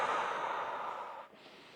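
A long, steady breath is pushed out during a prenatal floor exercise, a soft airy exhale that cuts off near the end.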